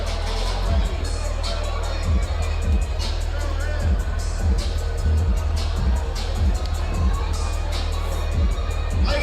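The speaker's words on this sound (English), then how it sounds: "Applause for these 2 fighters leaving it in the cage for 3 hard-fought rounds." A crowd cheers and claps for two fighters after a three-round cage fight, a loud, continuous roar of voices heard close with someone talking over it.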